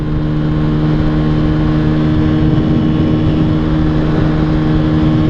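A Benelli TNT 125 motorcycle engine held at full throttle near its 9000 rpm limiter, a loud, steady, droning buzz with a constant pitch and heavy wind rush, continuous throughout.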